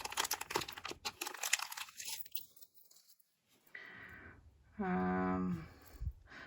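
A small plastic packet from a lot of vintage jewelry crinkles and rustles up close in bursts, then goes quiet before a brief tonal hum and a few more handling noises.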